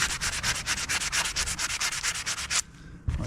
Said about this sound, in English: I've been sanding on the edges a little bit to get it round again